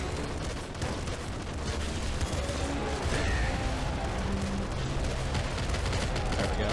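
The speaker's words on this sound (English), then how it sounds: "I've got a pretty good machine gun the way it is." Video game machine gun fire, a continuous dense clatter of rapid shots with crashing impacts running loud throughout, no break in the barrage.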